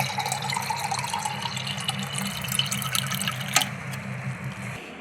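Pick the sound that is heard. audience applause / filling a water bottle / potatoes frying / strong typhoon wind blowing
filling a water bottle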